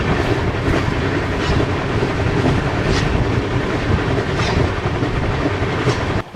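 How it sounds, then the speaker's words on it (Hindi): A double-decker express train rumbles loudly past while overtaking the Hisar Jaipur Express, a steady heavy roar with rhythmic wheel clatter and wind buffeting, close and continuous. "और फाइनली ओवरटेक हो रहा है हिसार जयपुर एक्सप्रेस का।"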